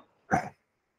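A single short cough from a lecturer during a teaching session, close and fairly loud, with silence before and after.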